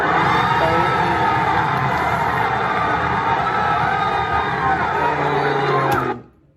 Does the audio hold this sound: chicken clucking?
no